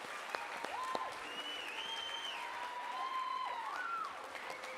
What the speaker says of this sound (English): Let's give these kids a huge round of applause for taking this effort.